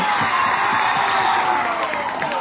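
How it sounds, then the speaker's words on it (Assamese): An audience at a Bihu stage show during a Rongali performance claps together in a steady, dense wash of applause with faint cheering, moderately loud and continuous across the short stretch. "সকলে এটা হাত চাপৰি সকলে একেলগে"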